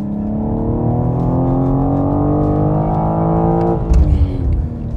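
A 2021 BMW M4 racing on a circuit, its engine roaring loud and close with a steady rising pitch, then dropping sharply as the driver lifts or shifts near the end.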